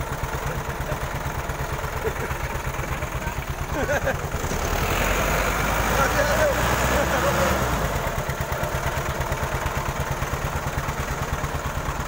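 A tractor engine runs with a loud, steady thumping beat, swelling briefly in the middle before settling back to its even running rhythm.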